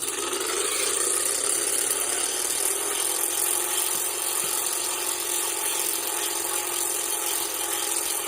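The engine of a North American T-28 Trojan warbird in Flight Simulator X, a steady droning whir with a faint mechanical rattle, constant and unbroken throughout.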